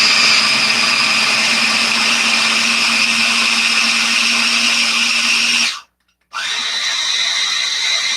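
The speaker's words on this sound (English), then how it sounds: "what I would do is finish all this, blend it, and then blend the rest of your beans" Navy beans for a vegan pâté whir in a blender running loud and close with a steady high-pitched motor whine, cutting out briefly near the end before starting again.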